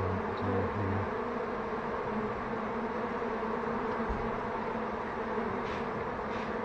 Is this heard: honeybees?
yes